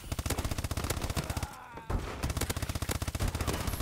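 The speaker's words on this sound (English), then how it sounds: "I'm using the MP11 with silencer" Silenced MP11 submachine gun fire in Call of Duty: Advanced Warfare, a rapid steady stream of suppressed shots, a short pause, then another long burst, fairly quiet and close.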